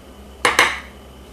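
Metal spoon scraping seeds out of a halved jalapeno pepper, two quick close scrapes in succession against a quiet kitchen background.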